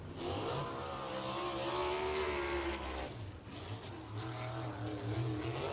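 Sprint cars at Lincoln Park Speedway during USAC Indiana Sprint Week, engines roaring loud and close. The pitch climbs and sags as they run on the throttle, with a brief dip midway before the roar builds again.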